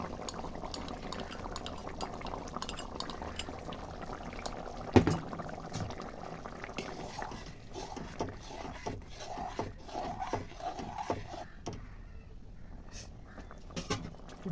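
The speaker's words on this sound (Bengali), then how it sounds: "এবার একটু ঢাকা দিয়ে দিলাম ঝোলটা তাড়াতাড়ি ফুটে ওঠার জন্য।" Curry gravy for an egg and cauliflower roast bubbles in a covered pan, a steady low simmering hiss with soft pops and occasional lid or utensil clinks, heard close up with no talking.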